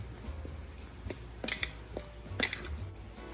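A spoon stirs falafel batter with a little flour in a bowl, making quiet, irregular scraping and a few sharper clinks against the bowl, close and soft.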